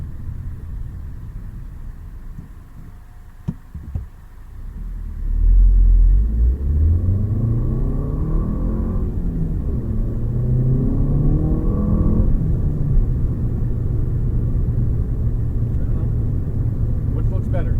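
A car's engine and road rumble fill the cabin, steady and close, with a rising surge as the car pulls away again after stopping at a stoplight.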